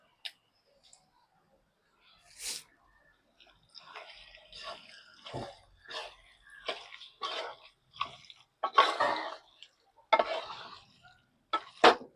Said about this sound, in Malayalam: നന്നായിട്ടൊന്ന് ഇളക്കി യോജിപ്പിച്ച് കൊടുക്കണം.